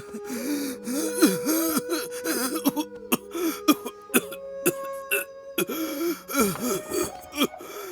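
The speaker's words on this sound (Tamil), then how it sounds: "மாமாக்கு இருமல் ரொம்ப மோசமா இருக்கு." Close, harsh coughing fits from a man, broken up by strained gasps and groaning breaths, with brief silences between bursts.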